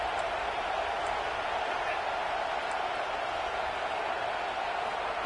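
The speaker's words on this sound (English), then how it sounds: "this crowd is fired up. Listen to this noise here." Steady roar of a stadium crowd in a college football video game, an even, unbroken wash of noise at moderate level throughout.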